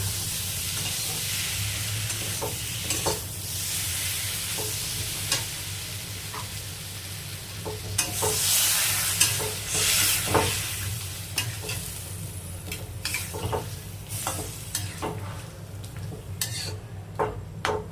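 Tomato masala seasoned with Kashmiri chilli powder fries for egg curry in a pan, a continuous close sizzle broken by frequent sharp scrapes and clicks of a spatula stirring, with no one talking.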